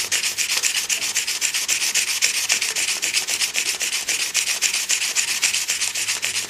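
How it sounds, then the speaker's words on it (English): Steady rhythmic hand sanding along a wooden pen barrel, rapid back-and-forth rubbing strokes repeating evenly and close up, with no voices. "I just hand sand along the length of"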